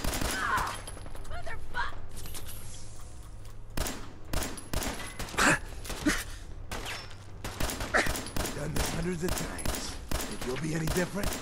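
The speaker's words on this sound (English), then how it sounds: "There's explosions and stuff all over the place." Rapid bursts of gunfire and explosions in Fallout 4 crackle continuously, dense and loud, with a voice talking over the action.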